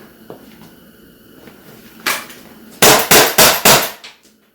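Umarex Glock 17 trainer pistol firing .43 caliber rubber balls: one sharp shot, then a quick run of four loud, close reports with short gaps, a faint click or two before.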